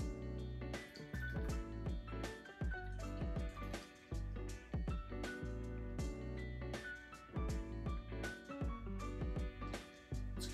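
A Nelson Sauvin New England IPA is poured from a can, with rhythmic glugs and liquid splashing and dripping over steady background music.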